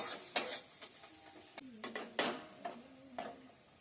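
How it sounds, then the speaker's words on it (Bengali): Garlic and chilli fry in a pan as a spoon scrapes and knocks against the metal in irregular bursts, with a soft sizzle underneath at low volume. "এবার রসুন লঙ্কা একটু কষবে, একটু কষাতে হবে"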